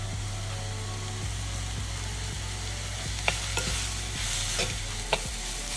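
Capsicum and spices, including coriander powder, are stirred in a cooking pan, a continuous scraping and gentle sizzle with a couple of sharper clinks of the spoon against the pan, heard close up.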